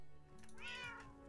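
A single short cat meow in the game Minecraft, faint and close, with a rising and falling pitch over about a second.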